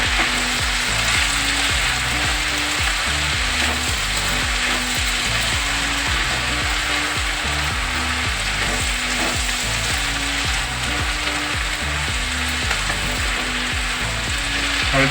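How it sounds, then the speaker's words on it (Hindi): Fenugreek leaves and potato stir-frying over a high flame, a loud unbroken sizzle with a rapid, regular scraping and clattering rhythm of stirring running through the whole stretch, no one speaking. "इसको मिक्स करते हुए चलाते हुए अच्छे से हमने सारी मेथी डाल दी है"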